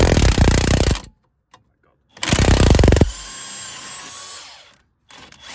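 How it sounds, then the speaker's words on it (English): Impact wrench removing bolts from a worn wheel hub: two loud rattling bursts about a second long each, separated by a brief pause, followed by a quieter ringing tail. "Life gets so much easier with an Ugga Dugger machine."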